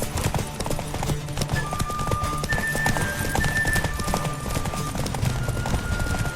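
A horse gallops hard during a race in The Witcher 3, its rapid, steady hoofbeats loud and close throughout, with sustained musical tones drifting above.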